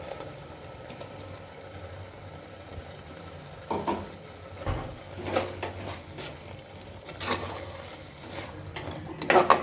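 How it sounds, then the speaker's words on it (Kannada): Ground coconut, coriander, mint and green chilli paste being stirred into veg biryani masala in a pan, giving soft scraping and sizzling with a few louder spoon knocks against the pot, close and fairly quiet. "ಸೊ ಇದಕ್ಕೆ ನಾನು ಇಲ್ಲಿ ನಾನೇನು ಕಾಯಿ ಮತ್ತು ಕೊತ್ತಂಬರಿ, ಪುದೀನ, ಹಸಿಮೆಣ್ಸಿನ್ಕಾಯಿ ನಾನು ರುಬ್ಕೊಂಡಿದ್ನೋ ಅದನ್ನು ಆ್ಯಡ್ ಮಾಡ್ತಾಯಿದ್ದೀನಿ"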